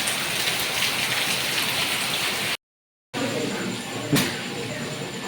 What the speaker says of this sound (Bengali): কি হারে বৃষ্টি হচ্ছে দেখো প্রচণ্ড বৃষ্টি নেমেছে